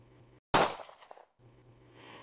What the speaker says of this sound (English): Then she heard the sound of a gunshot.